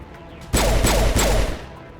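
A bolt gun fired in the video game Mass Effect, a loud close burst of three heavy rapid shots with ringing metallic tails, then quiet.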